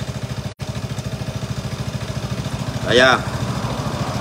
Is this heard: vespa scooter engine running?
yes